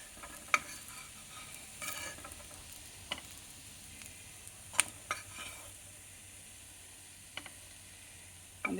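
Mutton shami kababs shallow-fry in a pan with a quiet, even sizzle, broken by a few sharp clicks and taps from the utensil and pan.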